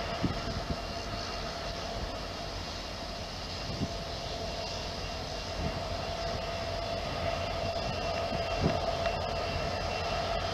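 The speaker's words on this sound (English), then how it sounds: "Canadian National, Peoria Local, switching" A Canadian National freight train switching cars at a steel plant in Pekin, Illinois, a steady distant locomotive drone with a sustained tone and occasional soft clanks of couplers, heard from a distance.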